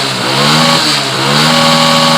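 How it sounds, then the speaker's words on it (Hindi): A bike with full engine wear runs loud and close, its steady engine drone carrying rattly, knocking mechanical noises throughout with slight swells in revving. "इतनी आवाजें कर रहा है ये बाइक"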